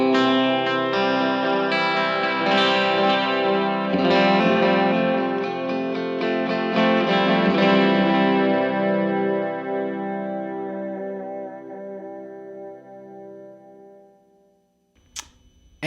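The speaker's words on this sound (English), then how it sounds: "Next up is the Pink Panther, and right now I have it set up for sort of a general quarter note, heavy modulated," An electric guitar plays through a Pink Panther delay pedal set to quarter-note repeats with heavy modulation and a heavy mix. Sustained strummed chords swirl and echo, then decay slowly into silence, and a brief click comes near the end.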